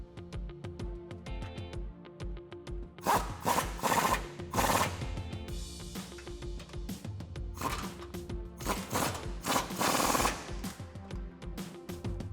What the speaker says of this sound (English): now we're going to retighten the bolts for our lower control arm that we loosened earlier. Again, a 24 millimeter socket for these.